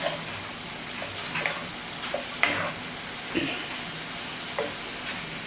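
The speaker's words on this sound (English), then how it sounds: "And you just want to saute these up, make sure that they're done." Shrimp sautéing in a pan for Cajun creamy shrimp pasta, giving a steady close sizzle with occasional scrapes and clinks of stirring.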